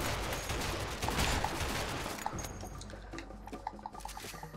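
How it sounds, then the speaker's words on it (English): Shotgun fire in the video game A Way Out, a dense burst of loud blasts and debris clatter at first, then thinning to scattered sharper shots and splashy impacts. "I'm just gonna spam the shotgun"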